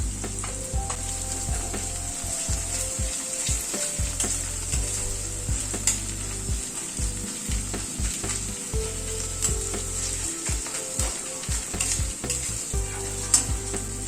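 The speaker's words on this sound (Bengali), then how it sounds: "এবার আদা বাটাটাকে একটুখানি ভেজে নিচ্ছি।" Ginger paste and garlic fry in a pan under a steady, close sizzle, with a spoon stirring and scraping through it in irregular strokes; no one speaks.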